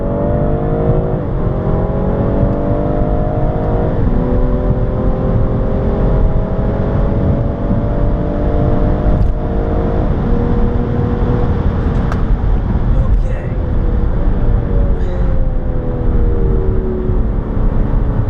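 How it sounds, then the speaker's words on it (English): A 2020 BMW M340i xDrive accelerates hard from a launch-control start, its engine loud and close, pitch climbing and dropping with several quick gear shifts across a continuous full-throttle run. "You mash the brake with your left foot, you mash the accelerator with your right foot, launch control is active"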